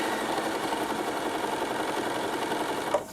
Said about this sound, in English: So I use the single overlock quite a bit